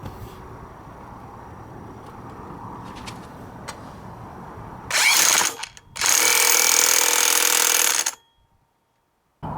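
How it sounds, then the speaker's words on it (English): An impact driver tightens a nut on a scooter's CVT, a faint workshop hum giving way to two loud, close rattling bursts of hammering, the second lasting about two seconds before cutting to silence. "Never use the impact driver to start the threads"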